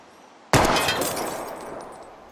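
A gunshot strikes a wheel rim in the Life Is Strange video game, a single sudden loud crack with a bright metallic crash that rings out and decays over about two seconds.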